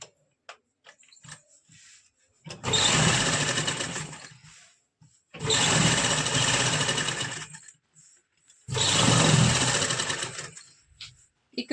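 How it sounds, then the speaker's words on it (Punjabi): A sewing machine stitches a seam on a palazzo in three sustained, loud, rapid whirring runs of a few seconds each, separated by quiet pauses with small clicks. "ਸਲਾਈ ਨੂੰ ਉੱਪਰੋਂ ਬਿਲਕੁਲ ਕਿਨਾਰੇ ਤੋਂ ਆਪਾਂ ਸਲਾਈ ਨੂੰ ਦੱਬ ਲਾਂਗੇ"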